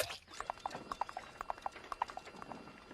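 Horse hooves clip-clopping in a quick, even rhythm of sharp repeated knocks, close and clear, with no voices.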